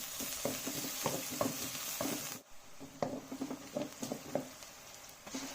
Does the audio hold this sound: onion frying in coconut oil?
yes